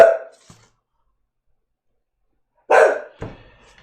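A dog barking indoors, two short sharp barks separated by a long silence, close and loud, with a faint thump after the second.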